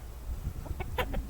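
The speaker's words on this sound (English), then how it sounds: "So you see my girls down there, and there's old Rooster" A backyard rooster and hens give a few soft clucks and short calls, close by over a steady low background rumble.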